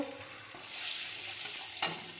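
Paneer frying in a wok with salt and turmeric makes a continuous crackling sizzle, swelling louder in the middle, with a couple of soft stirring knocks, no voices.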